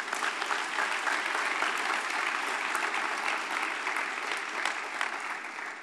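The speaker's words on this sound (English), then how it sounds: "we owe you a round of applause" A conference audience at a congressional poverty and hunger dialogue breaks into a round of applause, dense, steady clapping from a sizable crowd that holds evenly for several seconds before easing slightly at the end.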